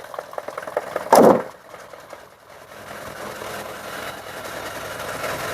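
Diesel engine of a 2016–2017 Mahindra Toofan BS3 with an intercooled, non-turbo, non-sensor engine, idling steadily at a constant low hum after a brief louder burst near the start, with no talk over it.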